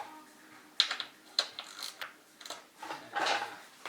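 Ratchet clicking as it works a bolt loose on a 2016 BMW S1000RR motorcycle, a few short sharp bursts of ratcheting at close range with pauses between strokes.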